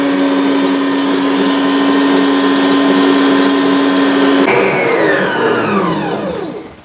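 A Mito MX100 mixer with a balloon whisk runs loud and steady at high speed whipping egg whites, then its pitch slides down as it slows and winds off near the end; no one speaks.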